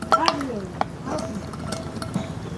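Batter with half a spoon of baking soda being mixed in a bowl for potato chops, giving quick clinks and scrapes of a spoon against the bowl with soft stirring, close up, and a voice briefly in the background.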